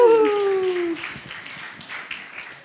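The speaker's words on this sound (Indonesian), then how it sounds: "Tepuk tangannya sekali lagi." An audience at a church youth service claps for the children, a scattered patter of applause that follows a short voice and then fades over a couple of seconds.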